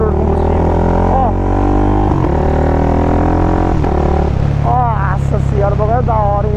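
A 470cc motorcycle engine drones steadily and close, its pitch rising and dropping with quickshifter gear shifts made without the clutch, while someone talks over it.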